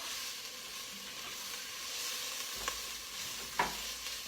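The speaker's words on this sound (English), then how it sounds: "So I'm gonna go ahead and continue to stir this. You can hear it sizzling now." Garlic and serrano peppers sizzling in an enameled cast iron pan while being stirred, a soft steady hiss with a couple of brief utensil scrapes near the end.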